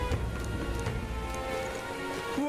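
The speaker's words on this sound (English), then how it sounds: "This bloody rain." Steady rain pours down in the video game Metaphor: ReFantazio, a constant close hiss with a few low musical tones and effects running underneath, no voices.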